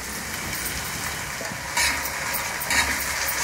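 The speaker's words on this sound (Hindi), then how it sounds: "थोड़ा सा अदरक लहसुन को भी प्याज के साथ फ्राई कर लेते हैं" Ginger-garlic paste frying with softened onions in a pan for egg bhurji sizzles steadily and close, with a couple of louder bursts as the mixture is stirred.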